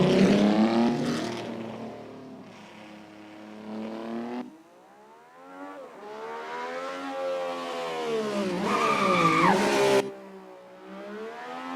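A car engine revs hard during a burnout, rising and falling in long, loud sweeps with brief drops between pushes, and a harsh screech near the end.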